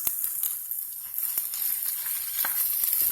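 Onions frying in a pan on a stove at medium heat, a soft steady sizzle with occasional sharper crackles and stirring clicks, close and moderate in level, without talk.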